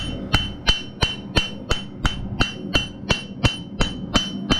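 Evenly paced ringing hammer peen blows on horseshoe steel, roughly a dozen sharp clanks in quick succession, loud and close.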